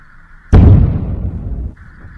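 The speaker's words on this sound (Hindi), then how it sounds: "आप धमाकों की आवाज और धुएं का एक गुबार देख सकते हैं।" Army detonation of unused ammunition at a firing range: one sudden heavy boom that rolls and rumbles for about a second before fading, loud, with a faint steady tone before and after.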